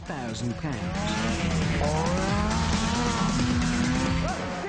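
A drag kart powered by a 600cc snowmobile engine drives with a loud, steady high-revving engine note and rising pitch sweeps, overlaid by a narrator's voice throughout.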